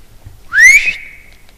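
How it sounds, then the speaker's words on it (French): A person whistles one clear, loud, rising note inside an old abandoned sugar factory, a brief call that slides upward and then holds before fading into silence. "Je vais essayer de siffler, on va voir."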